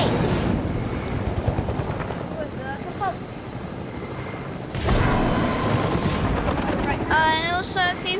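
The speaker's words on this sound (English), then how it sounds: "There's an enemy helicopter!" An enemy helicopter in a video game makes a loud, continuous rotor and engine roar that swells again midway, with booming bursts and a person talking excitedly over it.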